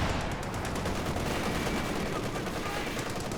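Tank gunfire and battle noise from the video game Company of Heroes 2 form a dense, loud, continuous barrage of shots and rumbling with no clear gaps.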